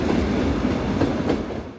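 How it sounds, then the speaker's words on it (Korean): A train rolling steadily along the rails, a continuous dense rumble with faint rhythmic clicks of the wheels, loud and close, with no voices. "이어서 게라드도 출장을 위해 기차에 오르는데"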